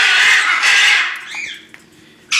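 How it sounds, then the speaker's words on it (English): A macaw at a bird rescue gives loud, harsh squawks close by, two long screeches followed by softer chatter and another burst. "That's a very loud macaw."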